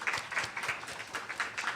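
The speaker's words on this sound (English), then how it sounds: "give them a round of applause too" Audience applause at a library cataloguing conference, steady clapping from a room of people sustained through the moment with slight swells.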